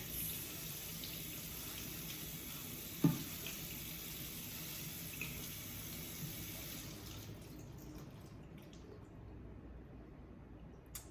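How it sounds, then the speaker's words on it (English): A sink faucet runs water over strawberries in a colander, a steady close hiss of flowing water that carries on for several seconds with a light knock partway through, then tapers as the flow eases; no talking. "turn the water on, and rinse."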